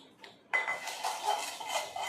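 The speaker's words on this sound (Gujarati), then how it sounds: "વાસણ ઘસવાના." Dishes and utensils are scrubbed and knocked together at close range, a brief soft rustle and then a busy run of clinks, scrapes and rubbing that goes on in uneven bursts.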